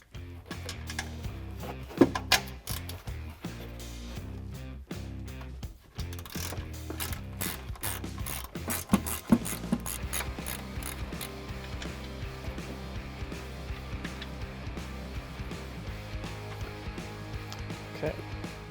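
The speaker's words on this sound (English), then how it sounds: "grab your 14mm socket, put it on the ratchet, and we're gonna loosen up the 3 nuts here holding on the top mount of the strut" Close ratcheting clicks come in bursts as a ratchet with a 14mm socket loosens the top strut mount nuts on a 2016-2020 Toyota Tacoma, with metallic clanks and scrapes between runs.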